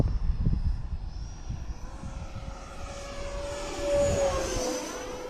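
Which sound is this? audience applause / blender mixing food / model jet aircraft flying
model jet aircraft flying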